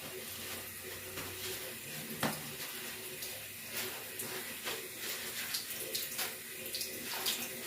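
A faucet runs steadily during handwashing with soap and water, giving a continuous, quiet hiss of flowing water with small splashes and no talk.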